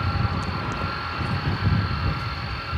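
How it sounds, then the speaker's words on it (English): UPS cargo planes taxi at DFW Airport at night, their engines a steady, loud, continuous roar with a high whine, close by and without any talk. "these very nice shots of the UPS planes taxiing"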